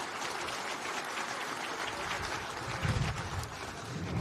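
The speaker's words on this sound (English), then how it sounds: "on peut l'applaudir, je pense" An audience at an economic forum applauds a newly returned economy and finance minister, a soft, steady wash of many hands heard at a distance and fairly faint throughout.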